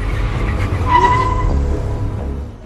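A hacked car moves on its own through a parking lot, with a steady engine rumble under a brief tire skid squeal that rises and fades, in an animated Inuyasha story.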